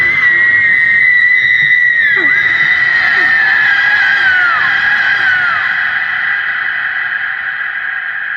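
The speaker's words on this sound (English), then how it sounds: "And then the banshee screams." A banshee's scream in an audio drama: a loud, sustained high shriek that wavers and slowly falls in pitch over several seconds, fading slightly toward the end.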